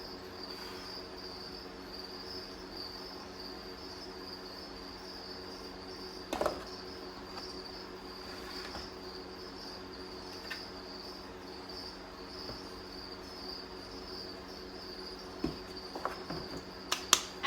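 Baby pinhead crickets in an incubator give a steady, faint high chirping drone, with a few soft clicks and taps scattered through and no talking.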